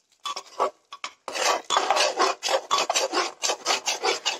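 Spatula scraping and stirring matar paneer masala in a pan, dhaba style, with rhythmic rasping strokes, close and fairly loud, starting with a few short scrapes and then continuing in steady repeated bursts, no talking.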